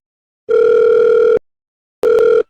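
A telephone ringing tone plays during a phone call. It is loud and steady, with one long burst of nearly a second, a pause, then a shorter burst.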